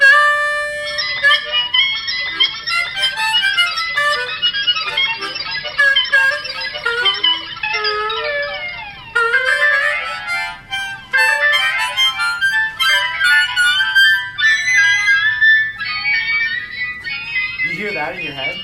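A harmonica played through an effect pedal gives a continuous, heavily processed melodic run with bright, wavering, bending tones and dense harmonics, loud and unbroken with no talk.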